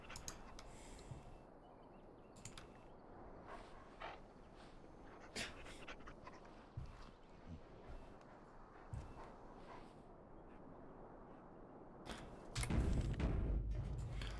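A dog panting in the video game Dragon Age Origins, quiet rhythmic breaths with a few faint whimpers and soft thumps, then a louder rumbling passage near the end.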